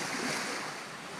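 East River water churned by Hurricane Sandy beside the FDR Drive in Manhattan, a dense, steady rush of waves and gusting wind buffeting the microphone, loud and unbroken for a short moment.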